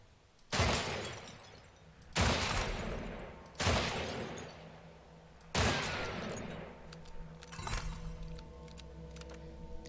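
A revolver in the video game Weird West fires five sharp, loud shots at uneven intervals, each with a ringing decay, followed by light mechanical clicks.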